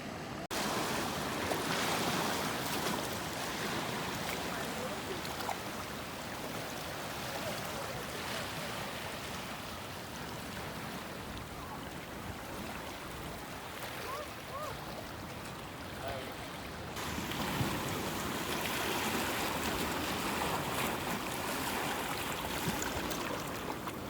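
Surf washes over rocky tide pools at Ebb Tide Park in Pismo Beach, a continuous broad roar of breaking waves and rushing water with wind buffeting, swelling again near the end.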